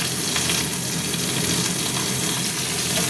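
Oil poured into a hot kadai hisses into a steady, loud sizzle, close up and continuous, with no talk over it.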